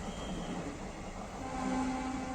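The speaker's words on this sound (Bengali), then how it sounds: "এই যে ট্রেন চলে এসছে" A train rolling past a closed level-crossing gate, loud and close, a steady heavy rumble with faint tonal squeal building toward the end.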